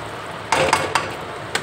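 Curry leaves and ginger paste being stirred in a pan, heard as a few sharp scraping clinks of a spoon against metal, spaced apart at close range with a quiet background.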